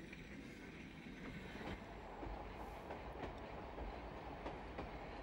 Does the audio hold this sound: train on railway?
yes